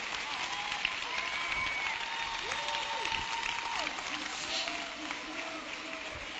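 A Portuguese-speaking church audience claps steadily and warmly, a dense, sustained round of applause filling the hall with a few voices faintly audible within it.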